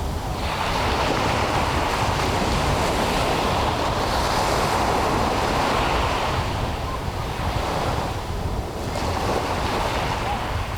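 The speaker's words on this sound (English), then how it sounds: "all the different sounds that flowing water can make" Ocean surf rolling onto a beach, a steady, loud wash of breaking waves with slow swells and wind noise throughout, no voices.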